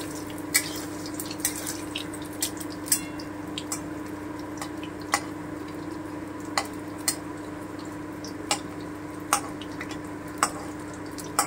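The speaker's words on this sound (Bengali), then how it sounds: "এই যে আমি এইভাবে ভেজে নেব পনিরগুলোকে" Paneer pieces fry in a pan with a steady hiss, punctuated by regular sharp clicks and pops every second or so, close and without talk.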